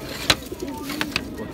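Pigeons coo softly in a pigeon loft in Mansoura, with a few low murmuring calls broken by brief sharp flutters or taps.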